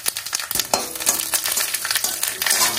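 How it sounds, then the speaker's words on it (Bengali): Bay leaf, dry chili and cumin seeds fry in hot mustard oil in a pan, giving a close, loud, crackling sizzle with rapid popping bursts and stirring, no voices. "তেল গরম হয়ে এসছে, এবার দিয়ে দেবো তেজপাতা, শুকনো লঙ্কা আর জিরে ফোড়ন।"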